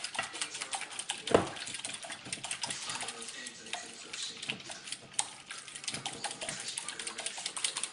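Whisk beating eggs and milk in a bowl, making rapid, light, continuous clicking and tapping with one louder knock partway through, fairly faint and close.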